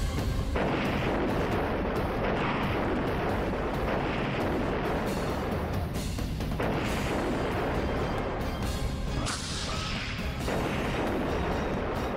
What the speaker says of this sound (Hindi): बीच सड़क पर रूस की सेना ने टैंक से हमला बोला